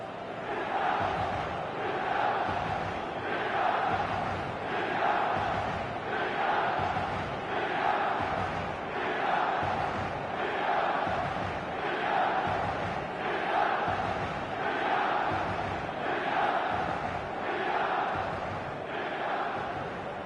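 A stadium crowd in the eFootball video game chants and cheers, a dense roar rising and falling in a steady rhythmic pattern throughout, with no clear talk above it.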